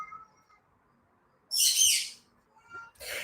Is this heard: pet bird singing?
yes